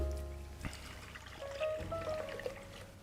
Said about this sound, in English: I'm going to pour in my 2 cups of cream.